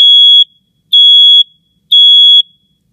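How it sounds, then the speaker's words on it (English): Three loud, high-pitched electronic alarm beeps from a GE Interlogix smoke detector, each about half a second long, evenly spaced with short silent gaps between them. "then it'll beep 3 alarm signals"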